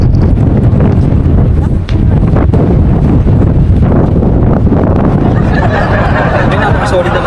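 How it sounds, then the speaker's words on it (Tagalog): Strong wind pounds a microphone on a lake view deck at Intang Lake in Pantabangan, a loud, continuous, rumbling buffet that never lets up, with voices talking faintly beneath it. "napaka-solid naman ang hangin dito."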